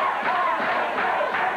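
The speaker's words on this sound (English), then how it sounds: "Crowd getting behind the King and Dutch Mantell." An arena crowd at a 1989 CWA Memphis professional wrestling event roars and cheers in a steady, dense wash of voices with rhythmic swells, filling the whole short moment without pause.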